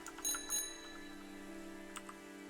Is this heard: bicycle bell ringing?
yes